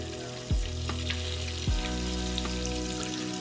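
Pomfret coated in masala sizzles and fries steadily in a pan, with a continuous close crackle and two louder bursts as the fish is turned or moved.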